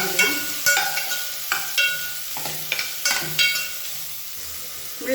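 Sliced radish, onion and green chilli frying in oil in a pan, a close sizzle broken by repeated scraping stirs of a spatula in an irregular rhythm, with no talking.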